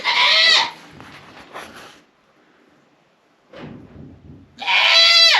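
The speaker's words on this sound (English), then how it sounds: "She's just a noisy goat, so she's fine." A goat bleats loudly twice, once at the start and again at the end, with quieter shuffling and faint rustling in between.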